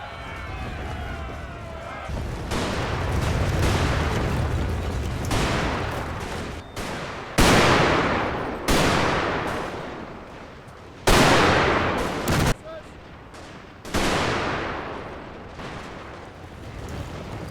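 Heavy artillery and rapid Gatling gun fire in a Total War battle between Zulus and British, with loud booming blasts repeating every second or two over a continuous rumble of gunfire.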